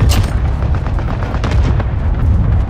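Loud, dense video game gunfire with booming shots and bursts in quick succession, heavy and close throughout, with no voices over it.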